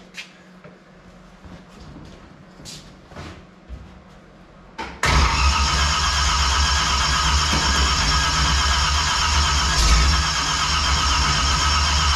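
A 1955 Chevy project car on a first start attempt cranks with a few uneven bursts, then catches at about five seconds and runs loudly and roughly near the listener until the end.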